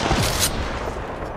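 Weapon fire in a mobile battle royale match of Apex Legends Mobile: a brief, loud burst of rapid gunshots up close, then a thinner rattling tail, with no voices.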